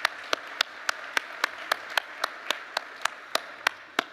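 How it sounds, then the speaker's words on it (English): Audience applause at an opening-ceremony award presentation: a soft, steady wash of crowd clapping under sharp, evenly spaced claps from one nearby pair of hands, lasting about four seconds. "So a big round of applause for everybody that went through the award ceremony."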